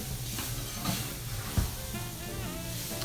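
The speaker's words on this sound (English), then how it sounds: "I'm browning up the onions just a little bit and the celery. And I'm gonna let it cook and saute." Chopped onions and celery sauteing in a pan, making a soft, continuous sizzle and hiss with a few faint stirring knocks, fairly quiet and alone.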